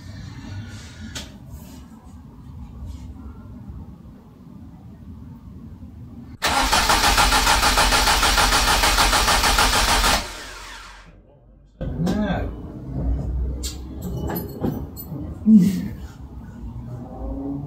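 A Ford Escort Mk1 engine, fitted with an upgraded ECU, cranks and fires in a loud burst of several seconds before cutting off, with people talking nearby before and after.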